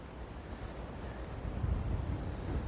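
Strong wind buffets the microphone on a golf course, a steady low roar that swells louder toward the end, with no voices.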